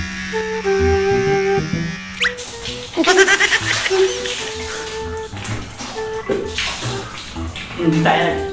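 Water is scooped and poured over someone bathing with a dipper on a hot summer day, splashing in repeated bursts, with goat-like bleats and a person's voice nearby.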